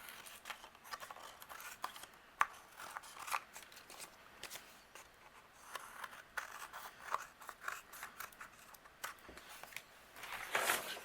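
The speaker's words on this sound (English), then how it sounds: "I'm going to use my scissors and I'm going to trim away what's overhanging." Scissors trimming overhanging patterned cardstock on a handmade holiday card, a quiet close series of crisp snipping and paper-crunching cuts with brief pauses.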